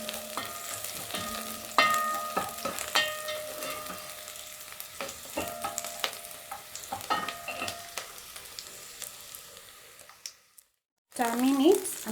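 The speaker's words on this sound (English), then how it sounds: "just let this saute on their own like that" Beef and vegetables sautéing in a single pot for fried rice, a close crackling sizzle punctuated by utensil clinks and scrapes, then a brief silence and a short burst of voice at the end.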